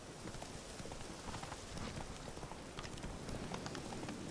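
Hooves of the horse Roach in The Witcher 3 clopping steadily over ground, a soft continuous patter set against rain-like ambient noise, fairly faint with no talk.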